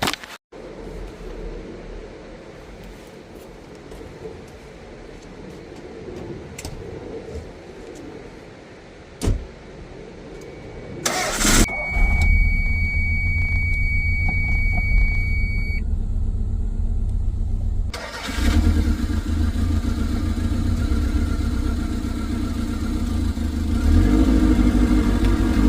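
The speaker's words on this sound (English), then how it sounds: "I'm gonna turn the car on and we'll go from there." A 1994 Toyota MR2 engine cranks and catches with a loud burst partway through, then settles into a steady, close, rumbling idle that continues to the end.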